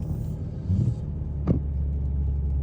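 Car engine running on quality diesel, a steady low rumble and hum heard from inside the vehicle on the road, with a brief clunk partway through and no talking.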